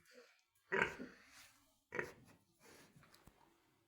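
A sow that has left her farrowing pen on a farm gives short, close grunts in a few separate bursts, with quieter snuffling and rustling between them.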